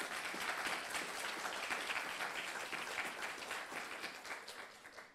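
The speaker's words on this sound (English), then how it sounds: "All right, round of applause, everybody." An audience at a bridge showcase and awards event gives sustained applause, dense even clapping that holds for several seconds before tapering off.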